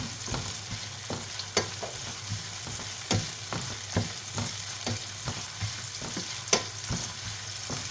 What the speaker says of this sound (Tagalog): So, prito lang natin yung ating onion.